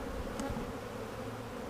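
Honey bees buzz around an open hive during supering in Tiffin, Ohio, a steady close drone of many wings with one brief higher whine passing near, no voices.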